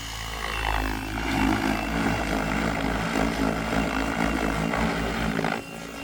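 A Tron Dnamic Pro lightweight 700-size RC helicopter with its rotor head spinning near 1600 RPM gives a loud, steady buzzing whir that holds for about six seconds, dipping slightly near the end.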